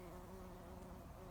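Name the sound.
bee buzzing in garden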